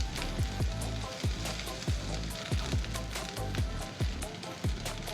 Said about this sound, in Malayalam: സോയ ചങ്ക്സ് ഇവിടെ നല്ലതായിട്ട് ഫ്രൈ ആയി വന്നിട്ടുണ്ട്.